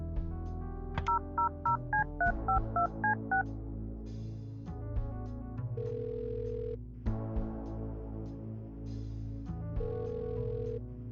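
A phone number is dialed in the video game Kathy Rain 2: a quick run of distinct DTMF keypad beeps, then steady dial and ringing tones with clicks between them, clear and close.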